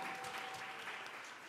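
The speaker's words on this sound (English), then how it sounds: "Please clap for the good English" A mid-sized audience claps together at a leadership and women's employment event: a steady, dense wash of applause that holds evenly throughout, with no voices over it.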